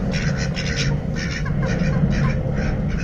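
Two male ducks kept as pets quack repeatedly in a steady, loud chorus close by, the calls overlapping in short bursts against a noisy background.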